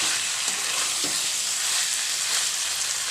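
Meat frying in a pan with water poured in, giving a steady, loud broadband sizzle throughout with a couple of faint clinks near the start and no speech.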